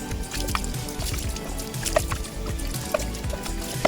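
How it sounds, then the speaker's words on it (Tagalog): Water rinses Honda Click CVT scooter parts, making close wet splashing and squishing with scattered drips and trickles throughout; no one speaks. "pwede na natin banlawan yan ng tubig"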